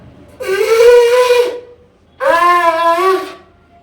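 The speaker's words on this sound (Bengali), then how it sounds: "এই শঙ্খটা প্রচন্ড মানে টাইট, বাজতে চায় না সহজে।" A tight, hard-to-sound conch shell (shankha) blown in two strained, wavering blasts of about a second each, separated by a short pause, fairly loud and close.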